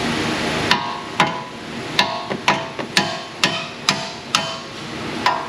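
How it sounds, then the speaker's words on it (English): Sharp metallic hammer blows strike rusted car parts in an auto repair shop, about a dozen close, loud hits at an uneven pace with short pauses between them. "there's not a lot of room to swing my hammer in here"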